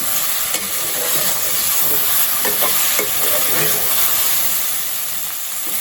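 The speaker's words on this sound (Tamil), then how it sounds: "வெண்டிக்காய் வந்து நல்லா வதங்கிடுச்சு" Okra sautéing in a hot pan, a loud, continuous sizzle and hiss with occasional scraping and stirring sounds close by.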